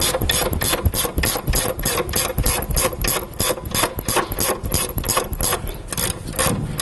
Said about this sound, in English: Now with a 16mm socket, there's two bolts at the back of the carrier, so let's get your socket on them.